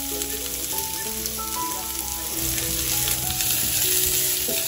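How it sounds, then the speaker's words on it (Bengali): Raw onion and chili powder fry in mustard oil, a loud continuous close sizzle with crackling spatter throughout and no voices. "শুকনো লঙ্কাগুলোকে ভেজে সেগুলোকে তুলে তাতে কাঁচা পেঁয়াজ আর গুঁড়ো লঙ্কা দিয়ে ভাজতে লাগলাম"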